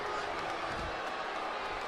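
Arena crowd noise from the WWE 2K20 wrestling video game, a steady dense roar of cheering that fills the whole moment without breaks.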